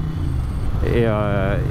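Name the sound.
1994 Ducati 900 Supersport engine intake and exhaust on throttle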